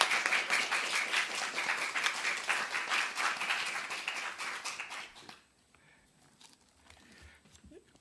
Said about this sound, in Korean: 박수를 쳐주세요.